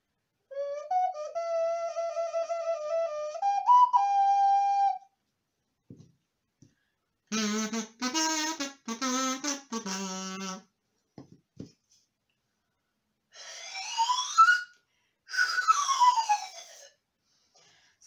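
Several short bursts of a reedy, buzzy wind tone from a homemade recycled-plastic instrument, some with pitch swoops, separated by silences.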